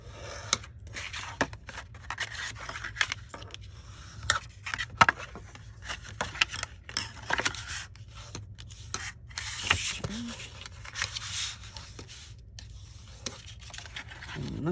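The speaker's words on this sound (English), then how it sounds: "grab a bone folder, burnish the score marks" Bone folder rubbed along score marks on paper while crafting a small treat holder, giving faint, close, intermittent scraping and rustling strokes in short bursts over a quiet background.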